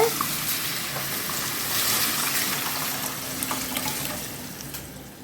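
Tomato rasam liquid poured into a hot pan, giving a steady broadband sizzle and rushing pour that runs throughout, close and fairly loud with a brief splash early on and no talking.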